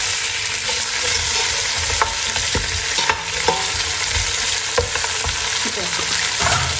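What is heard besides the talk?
lamb meat searing and sizzling in a pot for colombo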